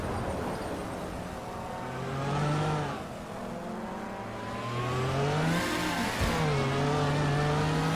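A classic 1981 Lancia Monte Carlo Turbo and rival cars at the race start at Vallelunga Club in a racing video game, engines revving and rising through the gears, loud and close, with no voices.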